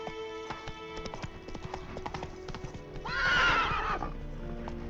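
Roach, a horse in the video game Witcher 3, gallops with a rapid run of clip-clopping hooves and then lets out one loud, drawn-out neigh near the end.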